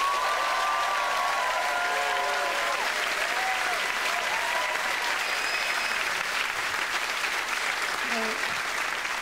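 A comedy club audience applauds and cheers as a comedian is welcomed onto the stage, a loud, continuous roar of clapping with faint voices and whoops within it.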